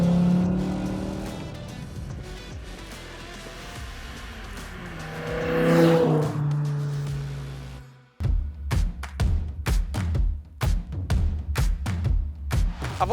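A 2005 BMW M5 (E60) V10 engine climbs in pitch to a loud, close roar and fades, followed by a string of sharp revving bursts with brief gaps between them.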